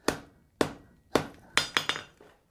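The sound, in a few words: hammer forging hot steel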